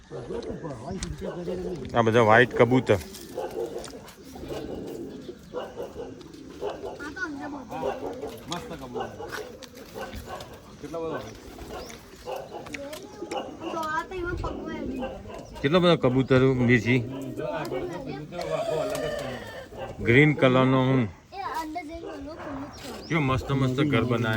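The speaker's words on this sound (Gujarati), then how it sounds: "કબૂતર જો વાઈટ કબૂતર" White pigeons cooing at an animal shelter, soft repeated coos and bird sounds heard beneath almost continuous nearby talking.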